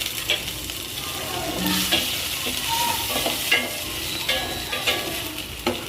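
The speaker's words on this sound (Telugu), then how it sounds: "కరివేపాకు కొంచెం వేసి ఫ్రై అవ్వాలి బాగా." Curry leaves fry in hot oil for a village-style amaranth leaf curry, a bright steady sizzle and crackle with intermittent clinks and scrapes of stirring, close and lively.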